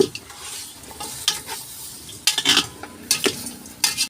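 Mung beans and pork being stirred in a cooking pot with a utensil, giving scraping, clinking strokes over a faint sizzle, with a few sharper knocks near the end.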